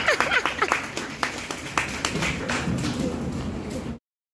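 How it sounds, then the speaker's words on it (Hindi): Family members clap their hands in a quick, irregular burst of claps, close and loud, with brief talk mixed in, as part of a playful moment before an event. "ताली ताली।"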